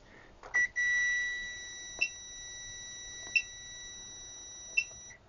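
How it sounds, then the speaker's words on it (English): Zotek Zoyi ZT-5566 SE desktop multimeter sounding its continuity tester: one sustained high tone lasting about a second, then three short sharp beeps spaced over the next few seconds, clear against a quiet room. "now we can also check at what point the continuity starts beeping"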